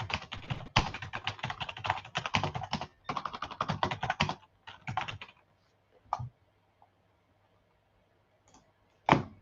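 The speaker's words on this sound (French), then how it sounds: "quand je tape sur le clavier" Fast typing on a computer keyboard, heard up close as dense bursts of clicking keystrokes. Brief pauses split the bursts, then the typing thins out to a few scattered taps and goes quiet.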